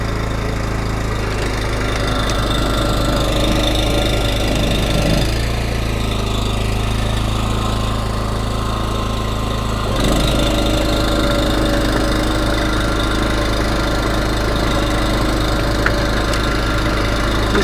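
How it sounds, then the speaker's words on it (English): A BCS two-wheeled walk-behind tractor tiller runs with its PTO-driven tines turning, a loud steady engine drone with a low throbbing rumble that shifts pitch briefly mid-way before settling back. "I'm going to put the PTO on so then the tines will start to roll."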